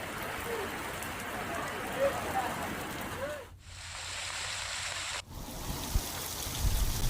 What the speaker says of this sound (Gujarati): દીવથી વરસાદની આ તસવીરો સામે આવી છે